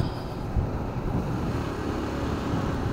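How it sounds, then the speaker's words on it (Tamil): Strong gusting wind roaring across the microphone during a solo motorbike ride near Jhansi on the way to Ladakh: a dense, low rumbling buffet that stays continuous and fairly loud, with no talk. "பேய் காற்று அடிக்குது இங்கே"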